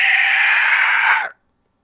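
A voice imitates a shrill, high-pitched screech held for just over a second, then cuts off abruptly into silence.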